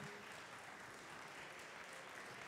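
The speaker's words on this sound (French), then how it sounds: "Vous les applaudissez, s'il vous plaît, nos chefs." An audience at a gastronomic creativity festival gives the chefs steady, dense applause that fills the room evenly from start to finish.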